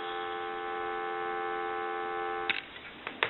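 Steady dial tone from an AE three-slot payphone hums alone for about three seconds, ending with a couple of faint clicks.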